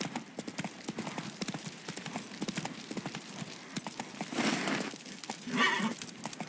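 The horse Roach gallops in The Witcher 3: Wild Hunt, a rapid rhythmic clip-clop of hooves throughout, with heavier thuds and a brief rustling swell near the end.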